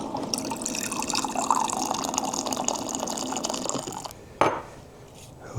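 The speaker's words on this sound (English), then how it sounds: "We'll soak the chasen, just like that, about 80 to 90 mLs of hot water" Hot water, about 80 to 90 mL at roughly 170 degrees, poured over a bamboo matcha chasen whisk in a bowl; a steady close splashing pour runs for about four seconds, then stops with a small clink and a faint drip.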